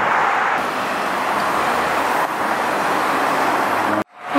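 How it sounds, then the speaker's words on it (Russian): Road traffic passes a bus stop in Dubai after leaving Deira, a loud, steady roar of passing vehicles that continues without a break, then cuts off abruptly near the end. "Мы подошли на автобусную остановку."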